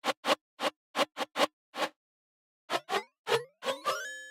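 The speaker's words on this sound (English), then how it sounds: "I turn up the metallic delay and it gives this rising feeling" Short, dry percussive hits are played in a syncopated phrase; after a pause, the final hits pick up a metallic Ableton Corpus delay that rings into rising, pitched resonant tails.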